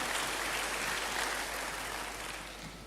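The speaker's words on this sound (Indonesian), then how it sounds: "Berikan tepuk tangan yang hebat bagi Tuhan." A church congregation gives sustained applause, a dense, even roar of many hands clapping that holds steady throughout and eases off slightly toward the end.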